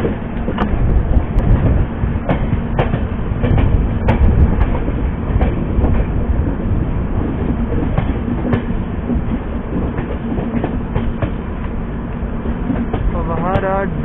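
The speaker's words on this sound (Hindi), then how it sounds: "हमारी जो ट्रेन है वो कर्व से होते हुए गाजियाबाद के जंक्शन रेलवे स्टेशन पे पहुंच रही है" Suhaildev Superfast Express running along a curve as it approaches Ghaziabad Junction: a steady, loud rumble with rhythmic clickety-clack wheel beats throughout and a brief rising wheel squeal near the end.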